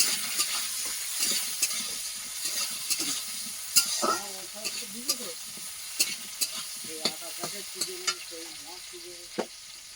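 Potatoes fry in a pan with a continuous soft sizzle, and a utensil scrapes and taps as the potatoes are stirred at irregular intervals, heard close and fairly quiet.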